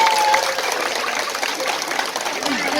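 Women at an Islamic study gathering clap together, a dense, steady patter of hands filling the room at close range for a few seconds.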